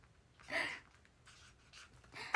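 Pen or marker writing by hand on a surface, a few soft scratchy strokes in short bursts, faint and close, with no talk over it.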